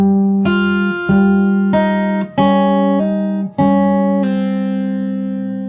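A short song passage on fingerstyle acoustic guitar, six plucked notes and chords in an even, steady rhythm, close and clean, the final one ringing out and slowly decaying, with no talking.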